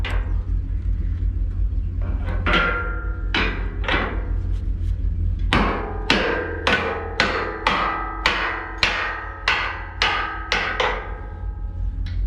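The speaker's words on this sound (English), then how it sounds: "you want to have a good 12-pound sledgehammer to do this" A 12-pound sledgehammer strikes steel parts of a 57-foot National crane on a 1995 Kodiak truck, ringing metallic blows, a few spaced then a steady run of about a dozen evenly timed hits, loud and close over a low engine rumble.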